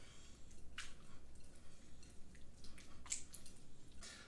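Fried shrimp being tossed in roasted garlic butter, giving soft, faint wet squishing and dripping sounds with a few brief slaps, with no talking.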